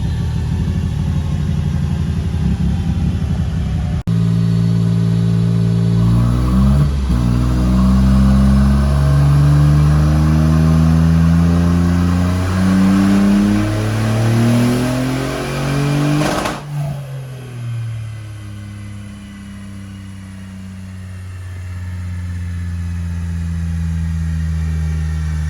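A Smart car on nitrous screams through a dyno pull, the engine note climbing in pitch through several rising sweeps before cutting off abruptly, then a lower idle-like drone settling in afterward; loud and close, no talking.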